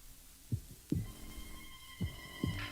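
A slow, muffled heartbeat thumps in paired low beats, repeating twice over a soft background hum.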